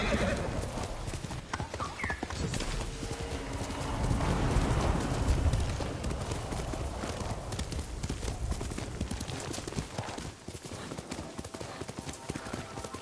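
Horse hooves clop steadily in a video game over a dense, busy background, with a brief whinny early on and a swell of noise midway.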